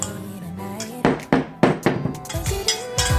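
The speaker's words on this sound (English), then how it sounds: "I'm just mixing it up like so and making sure that it's well combined in the bowl" Biscuit dough being mixed in a bowl, giving a run of irregular knocks and clinks of utensil against bowl, close and fairly loud, with no talking over it.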